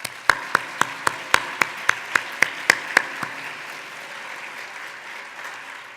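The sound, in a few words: applause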